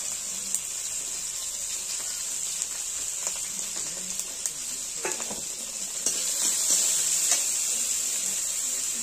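Tomatoes with salt, turmeric and cumin powder fry in a pan with a steady, close sizzle, broken by light scrapes and taps of stirring; the hiss swells a little louder near the end.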